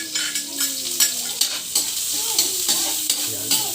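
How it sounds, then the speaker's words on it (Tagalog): Food fries in hot cooking oil, a steady crackling sizzle broken by repeated clinks and scrapes of a utensil stirring the pan, close and moderately loud with no talking. "Pagsabay-sabay na po natin kasi mainit na yung ating apoy. Ay, ating mantika"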